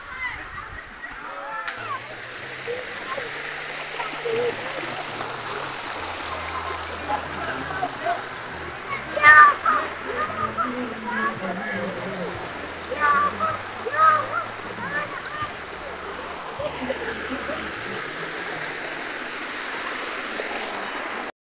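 Cold water stream running through Atrush forest near Dohuk, Iraq, a steady broadband rush and splash throughout, with people talking over it and a few louder splashes partway through.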